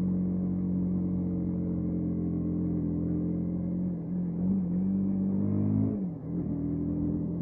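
A Lexmoto LSN 125cc motorcycle engine with a stainless steel exhaust, heard on a road ride, drones steadily with a low, humming note, then its pitch rises briefly as it accelerates before dipping and settling again.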